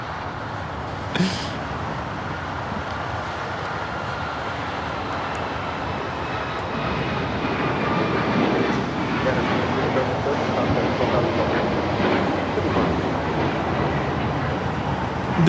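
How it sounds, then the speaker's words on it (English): A United Airlines Boeing 737 MAX 9 takes off at LAX, its engine roar building steadily into a broad rumble at a distance, with talk over it. "This is United Airlines 2377 taking off to Houston Intercontinental on the MAX 9."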